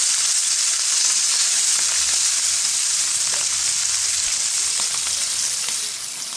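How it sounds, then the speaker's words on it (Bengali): Hilsa fish frying in a pan without chili gives a steady, close sizzle and hiss that runs unbroken, with no voices. "আমার শাশুড়ির জন্য আবার আলাদা মরিচ ছাড়া ভাজতে হবে"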